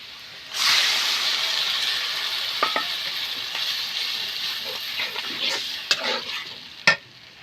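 Spice paste of chili, onion paste and fried garlic hits a hot pan for pigeon curry in a Bangladeshi village kitchen, bursting into a loud sizzle that keeps hissing while a utensil scrapes and clicks in stirring.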